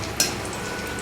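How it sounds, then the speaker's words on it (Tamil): Curry leaves and garlic fry in a small amount of hot oil for a crispy aval mixture, a close, steady sizzle with one sharp crackling pop near the start. "கருவேப்பிலையும் பூண்டும் பொரிச்சிட்டோம்."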